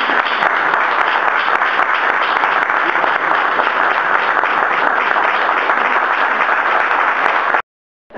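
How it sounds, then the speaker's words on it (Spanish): Sustained audience applause at a health event on HPV testing, a dense, steady wash of many hands clapping together for about seven and a half seconds, then cutting off abruptly into silence. "así que esta vez me parece que nos toca aplaudir a la provincia de Jujuy."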